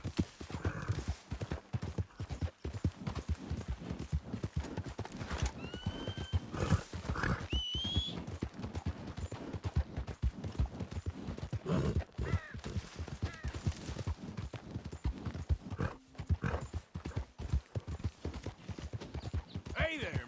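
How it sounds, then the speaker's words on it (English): Horse hooves clip-clopping in a Red Dead Redemption game scene, a steady, close rhythmic trot with a brief whinny, continuing under intermittent talk. "That's a fine horse you got there."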